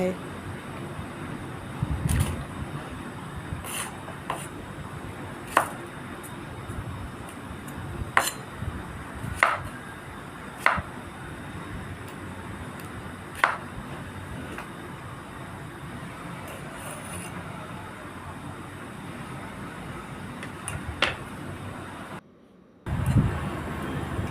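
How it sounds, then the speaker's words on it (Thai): Sharp knife chops through young chili peppers land on a board one at a time at uneven intervals, about a dozen in all, over steady low background hum and faint talk. "หั่นพริกอ่อนเป็นท่อนๆค่ะ"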